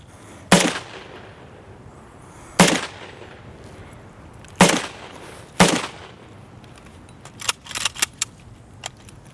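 Four sharp AK-74 rifle shots crack out at spaced intervals during sighting-in, loud and close, followed by a cluster of fainter clicks and rattles.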